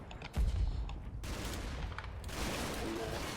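An MG 42 machine gun fires in a Normandy hedgerow battle in a wargame, with a heavy opening burst followed by sustained rattling gunfire and distant battle noise, all fairly close and without any talking.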